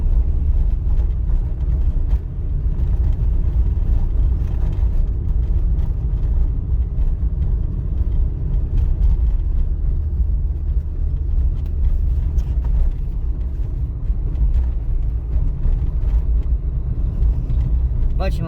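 Steady road rumble and engine drone of a car driving straight ahead in its lane during a driving test, loud and continuous throughout with a voice talking over it.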